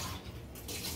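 Water splashing and trickling as it is poured out and refilled in a jar holding a rooting plant cutting, a steady, close, moderately quiet running-water sound with no talking.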